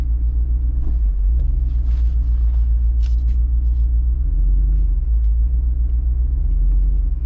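A 2022 Jeep Wrangler Rubicon 392 Xtreme Recon off-roading gives a loud, deep, continuous engine rumble that swells slightly midway, with a few faint knocks and scrapes from the terrain.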